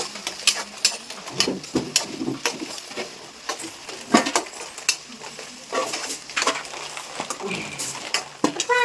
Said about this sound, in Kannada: ಒಗ್ಗರಣೆ ಹಾಕ್ತಿದ್ದಾರೆ